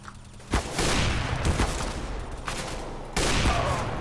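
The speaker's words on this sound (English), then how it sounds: "Oh, I got shot from the other side." Dense, loud gunfire in a first-person shooting video game, rapid bursts of automatic fire rattling almost continuously with a fresh volley near the end; no talking over it.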